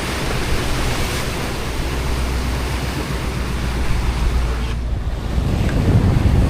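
Rough Pacific Ocean swells with whitecaps, heard from a boat out at sea: a steady, loud wash of surf and wind noise, with rumbling low water buffeting that builds toward the end.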